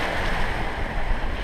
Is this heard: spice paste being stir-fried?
no